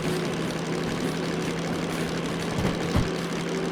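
A loud, continuous DM3 locomotive engine drone in the Derail Valley train simulator game, with a steady low hum, building slightly in intensity as revs rise, holding throughout without pauses.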